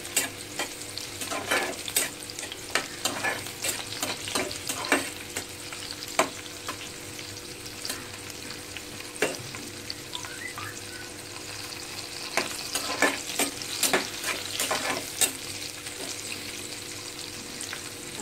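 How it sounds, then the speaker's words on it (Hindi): Cashews frying and being stirred in a pan for a restaurant-style matar paneer, with a steady sizzle broken by frequent scraping clicks of the spoon, close and continuous with no talk. "अब हम इसमें डालते हैं काजू। इसे ज़्यादा नहीं, सिर्फ 15 सेकंड तक भूनेंगे।"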